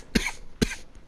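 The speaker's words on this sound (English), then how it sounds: "Hiccup and cough." Two short, dry coughs about half a second apart, close and fairly quiet, with nothing else around them.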